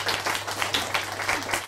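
Applause from an audience welcoming Dr. Wilona Annunciation, a consultant psychiatrist, as she is introduced to speak on mental health; a short, fairly quiet stretch of steady clapping over a low hum.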